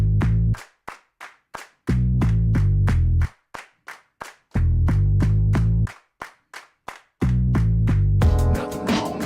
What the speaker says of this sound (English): I kind of like that jumping in with the punchy bass and the claps.